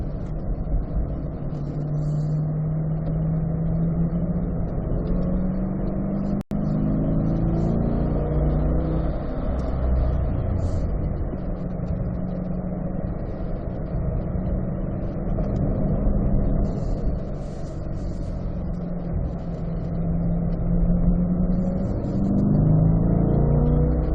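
A race car on a track accelerates out of a corner, its engine note rising and swelling in a loud, continuous drone heard from inside the car, with no speech.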